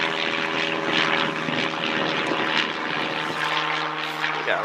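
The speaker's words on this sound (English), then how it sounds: "Look at that plane. It's really loud." A propeller airplane drones loudly overhead, a steady engine roar with a faint voice talking underneath.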